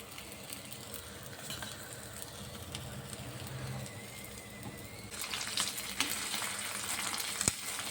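Egg paratha fries on a hot tawa in white oil, giving a constant soft sizzle that grows louder and brighter midway, with a sharp clink near the end.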